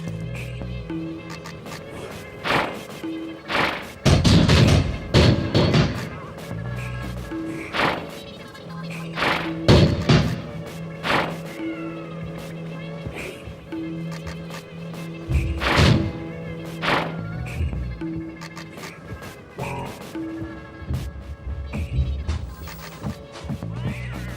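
Odd electronic bleeps, buzzing tones and dull thumps tumble over one another in irregular bursts from the awkward noise generator, a glitchy noise-making gadget in the video game Quantum Conundrum.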